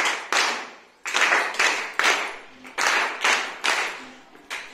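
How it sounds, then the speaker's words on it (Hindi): A group performs a scout clap, with sharp, loud claps falling in a repeating rhythmic pattern of pairs and triples, each with a short decaying tail, and no talking. "सबसे पहले स्काउट ताली से शुरू करते हैं।"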